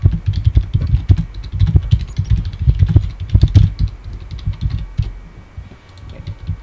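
Typing on a computer keyboard, close and clear, with quick irregular clusters of key clicks and heavier thumps running continuously, alone with no voices.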